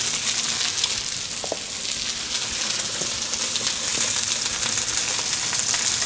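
Pad Thai noodles and sauce sautéing in a hot pan, a loud continuous sizzle with bright hissing spatter and occasional soft stirring clinks throughout, no talking.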